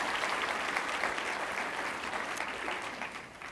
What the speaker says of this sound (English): we can applaud them all